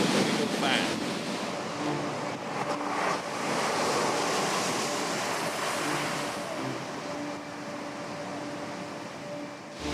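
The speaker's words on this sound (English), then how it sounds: "If this is just the swells, we're looking at 20 feet of surge on top of this." Hurricane surf pounds and churns with heavy wind gusting across the microphone, a continuous loud roar of swells and wind noise throughout.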